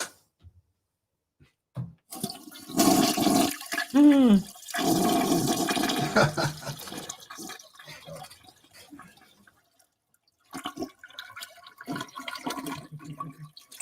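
A toilet flush played as a sound effect: a loud rushing gurgle with a swirling drain that fades out, then quieter trickling and refilling water.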